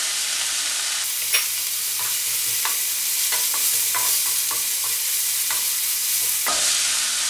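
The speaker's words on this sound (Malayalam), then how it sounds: "ഇനി ഇതെല്ലാം കൂടെ നന്നായിട്ടൊന്ന് വഴറ്റിയെടുക്കാം." Onions sizzle in oil with salt in a pan for a soya chunks roast. A loud, steady frying hiss runs throughout, and repeated spatula strokes scrape and tap against the pan.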